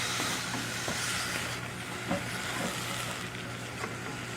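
Green beans for slow-cooked Southern-style green beans sizzle steadily in a hot pan. A few scraping stirs break through the constant frying hiss, close up and with no talk.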